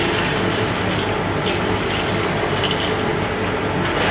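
Calcium nitrate being stirred into a liter of water, a continuous loud rasping, churning wash of liquid and scraping that stays steady throughout with no talk.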